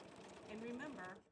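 A sewing machine runs a short burst of stitching to lock a securing stitch, quiet and close, with someone speaking over it.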